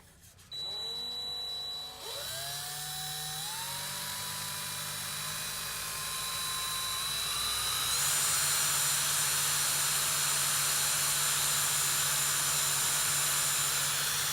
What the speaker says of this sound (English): he's going to spin the drill